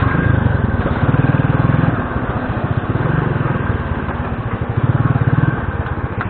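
A motorcycle engine putters and revs in pulsing bursts up close, the throttle rising and falling several times over a steady idle rumble.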